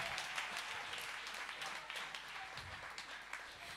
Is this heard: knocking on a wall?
no